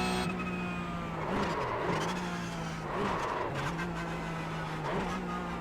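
Racing car engine in a sim racing game, lapping a track and droning steadily with rising and falling revs through gear shifts and corners, plus faint tyre noise, loud and continuous with no speech.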